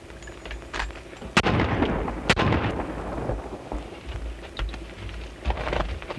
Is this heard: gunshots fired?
yes